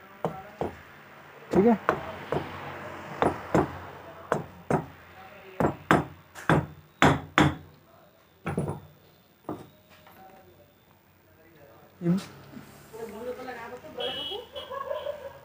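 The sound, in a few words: hammering with a mallet while fitting a submersible motor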